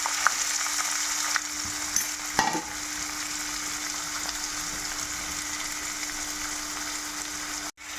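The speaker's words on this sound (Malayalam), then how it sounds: "അതിലേക്ക് 2 മീഡിയം സബോള കൊത്തി അരിഞ്ഞത് ഇടുക." Chopped onions frying in hot coconut oil with fennel seeds give a loud, steady, close sizzle. A couple of light stirring knocks come early, then the sizzle runs on unbroken.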